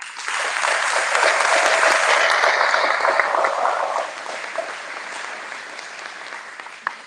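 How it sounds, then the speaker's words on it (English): A crowd claps for the graduating class at a high school graduation ceremony, starting loud and dense, then thinning and tapering off into scattered claps. "Can we please get a quick round of applause for the class of 2022."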